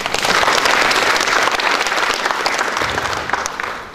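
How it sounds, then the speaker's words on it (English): Loud, dense applause from a large audience at a national student economics debate, steady clapping throughout that gradually tapers slightly toward the end. "can you at least clap for us here?"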